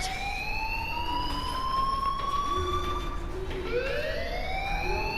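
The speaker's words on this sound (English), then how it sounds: "Hey, do you hear that fire alarm?" An alarm in the game Life is Strange wails in rising and falling tones, a siren-like sweep that repeats over a background hum, fairly loud and unaccompanied by speech.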